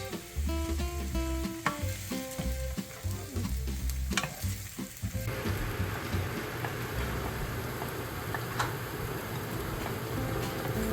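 Onions and peppers go into smoking-hot oil for Puerto Rican rice and beans. A few rhythmic tones and taps come first, then a loud, dense, crackling sizzle takes over and keeps going.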